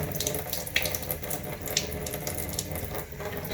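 Tap water runs steadily, splashing and rushing through a K&N air filter as it is rinsed in a sink, a continuous close-up flow with no talking.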